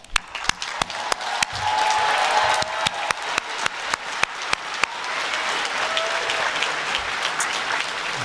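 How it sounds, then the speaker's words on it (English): An audience at the Porter College commencement ceremony at UC Santa Cruz applauds, with dense sustained clapping from a large crowd and several loud close handclaps standing out over the wash of applause. "I applaud you, and so do we all."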